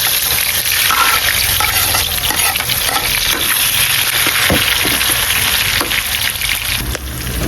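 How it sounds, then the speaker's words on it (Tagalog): Onion, ginger, garlic and tomato sauté loudly in a pan, a dense continuous sizzle with scattered spatter and utensil stirring throughout, close up and without talk. "Igisa na natin yung kanyang lamas. Yung kanyang lamas ay bombay, luya, tsaka garlic, kamatis."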